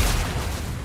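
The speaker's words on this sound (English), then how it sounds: "Taking heavy fire." Dense gunfire in the sci-fi shooter Mass Effect: Legendary Edition, a loud, continuous burst of overlapping shots and booms lasting under a second.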